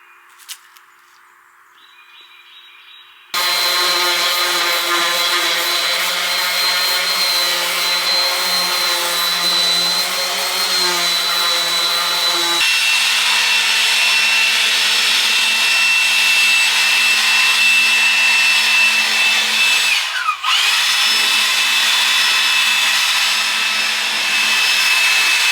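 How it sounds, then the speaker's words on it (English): A power sander runs steadily in a garden while surfacing wood, a loud continuous whine that starts abruptly after a quiet moment, shifts pitch partway through and keeps going with a brief dip near the end. "So I did a little bit of tweaking as far as the sanding goes, but I still need to do a little bit more."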